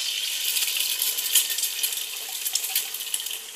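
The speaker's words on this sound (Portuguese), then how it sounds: "Ali já está já está fervendo" Water at a boil in a pan on the stove while scrambled eggs are being made, giving a steady bright hiss with a crackly, sizzling texture and small irregular pops throughout, close and fairly loud, with no voices.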